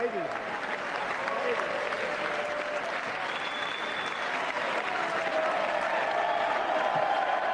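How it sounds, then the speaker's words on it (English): State of the Union audience clapping for the U.S. Olympic hockey team, sustained crowd applause filling the chamber at moderate distance, with faint voices mixed in. "So right now they're clapping over the U.S."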